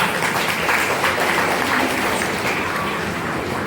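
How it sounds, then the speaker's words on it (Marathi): Audience at an award distribution ceremony applauding, a dense and steady burst of clapping from many hands that lasts a few seconds and is heard alone. "ही त्यांची ओळख आपल्याला टाळ्या वाजवायला नक्की कारणीभूत आहे."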